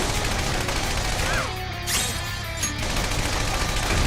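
Heavy, continuous gunfire from an attack in Persona 5 Strikers hammers away as a dense, loud barrage with crashing impacts, barely letting up across the whole stretch.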